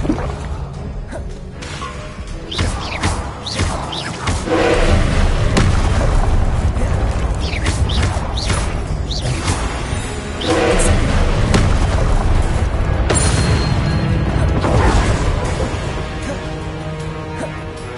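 Spells cast in the game Hogwarts Legacy, starting with Expelliarmus, burst out as a dense, loud run of magical whooshes, booms and thuds that continue without a break.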